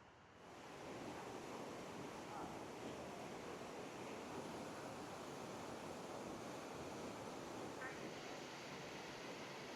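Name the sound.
waterfall water flowing, Dragon's Head Falls, Nikko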